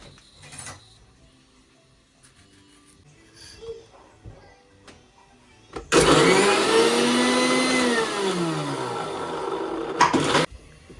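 A mixer grinder whirs loudly as it grinds green chili, coriander and tomato, its motor pitch dipping and rising over about five seconds before it stops abruptly. Softer clicks and handling noises come before it.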